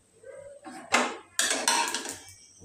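Metal utensils clatter against a pan as fried food is lifted out at home, a few sharp scrapes and clinks in two loud bursts against a quiet kitchen background.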